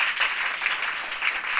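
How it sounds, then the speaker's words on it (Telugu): A church congregation claps loudly together in praise, a dense, steady wall of hand claps with a faint rhythmic pulse running through it. "గట్టిగా చప్పట్లు కొట్టి ప్రభువుని మహిమపరుద్దాం."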